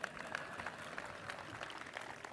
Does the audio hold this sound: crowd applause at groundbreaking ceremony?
yes